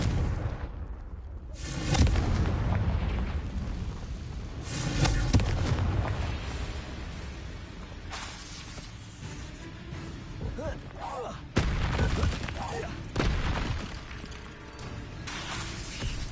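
Repeated Confringo explosive spells in Hogwarts Legacy boom and crackle through a dense, noisy battle soundscape, with several sharp blasts landing a few seconds apart over steady rumbling.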